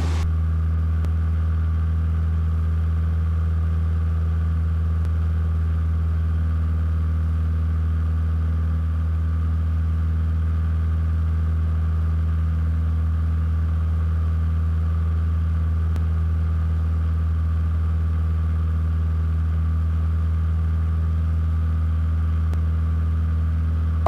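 A Cessna 172 engine drones steadily through the climb out after takeoff, a constant even hum heard from inside the cabin with strong low tones, unbroken and without speech.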